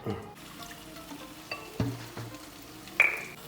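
Bird's eye chillies fry quietly in oil for a homemade pickle. A soft sizzle runs under a few stirring clinks and scrapes, with one sharp tap near the end. The sound is faint and close, and no one speaks.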